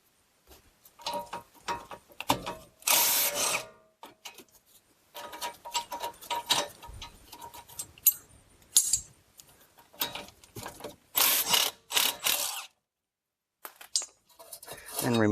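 A ratchet backs out two 18 mm rear brake bracket bolts on a Chrysler Town and Country or Dodge Caravan. Close, repeated bursts of metallic clicking are separated by brief pauses.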